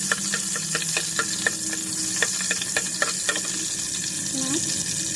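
Garlic fries in a pan as the first step of crab cooked in coconut milk, giving a steady close sizzle with faint utensil taps and a brief voice near the end.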